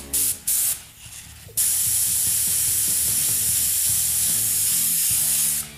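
An aerosol can sprays paint over a stencil in a long, loud, steady hiss lasting several seconds, preceded by a few short bursts of spray.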